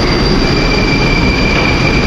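A Moscow metro train rumbles loudly and steadily as its doors close and it departs, with a constant wheel hiss and faint high whine from the rails.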